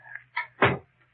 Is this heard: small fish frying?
no